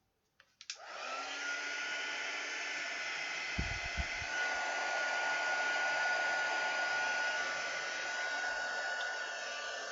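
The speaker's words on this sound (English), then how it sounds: "quick blast with the heat gun" A heat gun switches on with a click and then blows hot air as a steady, close whooshing roar for about nine seconds, with a couple of faint knocks partway through and no speech.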